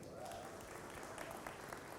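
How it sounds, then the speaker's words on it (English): Audience applause at an HR leadership summit evening event, a faint, distant, even patter of many hands clapping continuously for a couple of seconds. "Give yourself a hand of applause."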